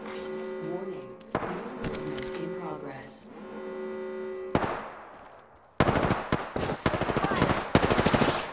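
Rapid bursts of automatic gunfire in the video game Apex Legends crackle in quick volleys, trading with quieter stretches of game sound and ending in a dense run of shots.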